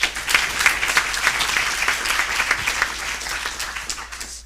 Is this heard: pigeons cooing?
no